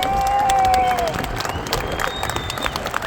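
A crowd at a Santa Pod Raceway drag race cheers and applauds loudly, then the roar fades into scattered claps and shouts, with an announcer's voice over the top.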